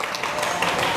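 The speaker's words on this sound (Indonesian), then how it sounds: "Tepuk tangan dulu untuk kita." Audience applause at a campus talk show, a brief burst of steady clapping from a room full of people.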